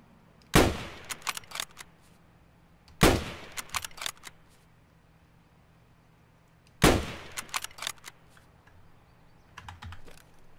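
Gunfire in the video game Escape from Tarkov: three sharp, loud shots spaced a few seconds apart, each followed by a scatter of quieter cracks and echoes over a low steady hum.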